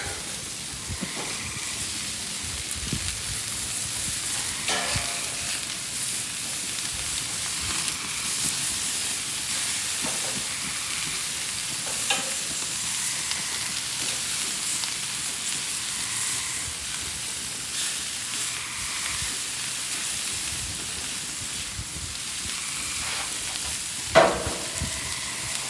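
Peppers and onions fry on a Monument Grills Denali 605 Pro infrared gas grill, giving a steady sizzle and hiss with scattered crackles and a few clinks of a utensil. No one speaks.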